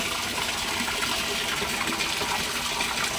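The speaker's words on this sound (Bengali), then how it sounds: "এখানে জল ফিল হচ্ছে দেখতে পাচ্ছ।" Water pours steadily into a rooftop fish pond with an even, hissing gush, continuous and moderately close with no talk.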